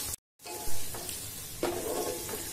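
Ingredients for a moong dal pulao sizzle and fry in a hot pan, a steady close hiss that cuts out briefly near the start, then resumes with a louder crackling burst partway through.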